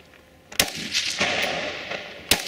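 Rifle gunshots at an outdoor practical shooting stage: two sharp, loud cracks about two seconds apart, with rumbling echo and range noise between them.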